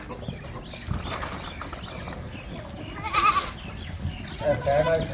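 Goats on a farm in Chakwal, including a buck chasing a doe in heat, with a couple of short bleats rising over outdoor background noise and nearby talking.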